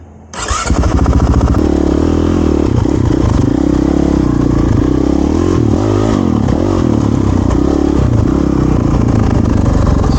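A 2023 Honda CRF450RL dirt bike with a Yoshimura RS4 exhaust fires up and idles loudly up close, a rough, throbbing single-cylinder burble with slight revving wobbles throughout.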